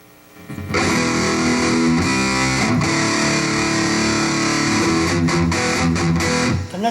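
Distorted electric guitar played through a BOSS eBand JS, loud sustained chords and riffing after a brief quiet start, ringing throughout with no talking.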